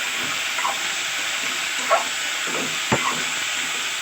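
Chicken with black pepper and coriander powder cooks in a pan for a home-style chicken stew, sending up a constant close sizzling hiss broken by a couple of faint knocks from stirring.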